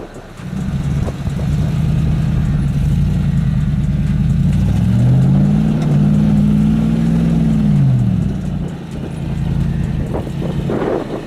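A Hummer H2 engine revs hard and holds high throttle while climbing an off-road obstacle, the pitch rising and sagging in long sustained surges, loud and close throughout.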